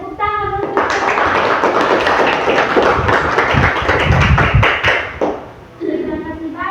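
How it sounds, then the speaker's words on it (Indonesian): A classroom of students clapping for their classmates after group presentations, a brisk, close burst of hand claps lasting a few seconds, bracketed by a teacher talking before and after. "tepuk tangan untuk semua"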